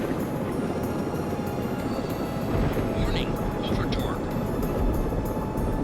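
A rescue helicopter in Search and Rescue 4 flies on toward the hospital, its steady loud rotor and engine drone filling the whole stretch without letup.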